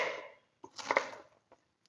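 A knife slices through peeled ridge gourd on a cutting board, making two or three faint, short cutting sounds while the gourd is cut into pieces for bajji, with no talk.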